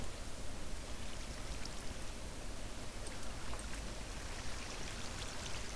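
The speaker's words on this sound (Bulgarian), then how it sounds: "А та вода откъде идва, нали ще спря, бе?" Flowing water in the Minecraft video game, heard as a steady, even rush and trickle that stays close and fairly quiet throughout, with no speech.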